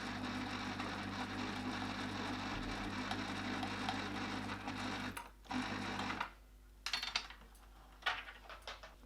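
A sewing machine stitching a fabric drawstring bag runs in a steady close whir for about six seconds, then stops and restarts in short bursts with brief pauses between.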